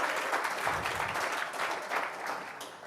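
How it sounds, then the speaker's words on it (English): An audience at a tenth-anniversary partnership gathering at a Bristol science centre claps continuously, a close, even roar of many hands that holds steady and tapers only slightly toward the end. "you can clap"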